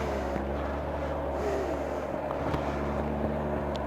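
Kawasaki ZZR 1100 (ZX11) motorcycle engine idling on a hot day while it still needs choke, a steady, even low rumble held close and constant throughout.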